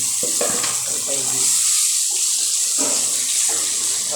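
Running tap water splashes steadily and loudly into a sink as something is washed under it in a home kitchen while breakfast is made, with brief clattering and faint voices under the flow.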